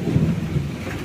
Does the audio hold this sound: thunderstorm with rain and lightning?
yes